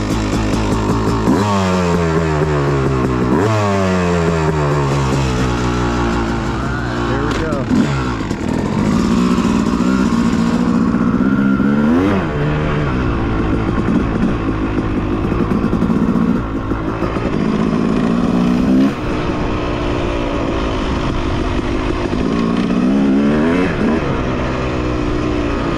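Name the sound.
motorcycle riding without a flywheel weight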